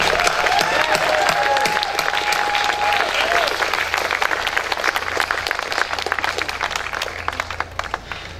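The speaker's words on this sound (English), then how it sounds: "So let's give them another round of applause." A large crowd applauds loudly and continuously, the clapping dense at first and thinning slightly toward the end, with a brief whistle early on.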